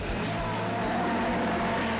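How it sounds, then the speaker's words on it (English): Sprint cars race at Claremont Speedway in Western Australia, with a steady loud engine roar and passing cars swelling in and out over the track. "Sprint cars race at Claremont Speedway."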